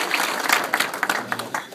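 A banquet crowd gives Mayor Joseph Tempesta of West Caldwell a standing ovation at his roast. Dense, close applause rolls on steadily with sharper individual claps popping out.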